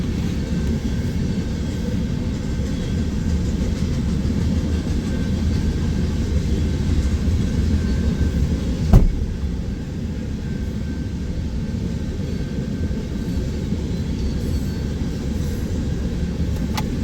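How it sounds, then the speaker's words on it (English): Loaded eastbound coal drag coming off the Creston Sub at Pacific Junction, Iowa, rolling past as a steady, heavy low rumble that holds even throughout, with one sharp clank partway through. "this is an eastbound loaded coal drag coming off the Creston Sub"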